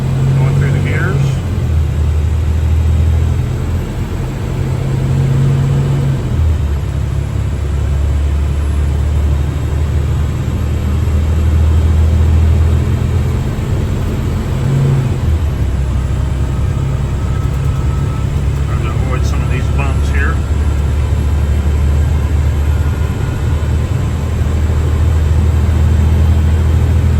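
An International 7300 4x4 bucket truck with an Altec boom pulls onto a main road, its heavy diesel engine droning loud and low as it shifts through the gears, with revs dropping at each shift and someone talking over it.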